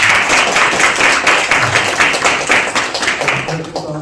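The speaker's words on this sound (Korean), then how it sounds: "권민성 대표님께 큰 박수 부탁드립니다" At a venture forum, an audience applauds to welcome a company's CEO to the stage, a loud, dense clapping from a seated crowd that fades a little toward the end, with a faint tone beneath.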